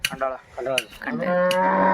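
A bull bellows a loud, drawn-out moo at a village bull race ground in Koregaon, close by and rising at the end, with brief crowd voices before it.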